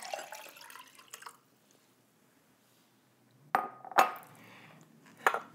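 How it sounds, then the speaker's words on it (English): Young coconut water poured into a glass, a soft liquid splash for about a second, then quiet, followed by a few sharp glass clinks and knocks close by. "I'll go ahead and pour it into this glass so I can enjoy it later."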